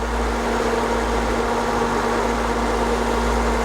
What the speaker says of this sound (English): as soon as the thermostat opens, the cooling fan kicks in